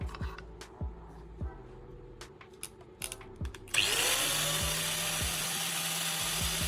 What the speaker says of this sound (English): I'm sharpening a bolt in an electric drill with an angle grinder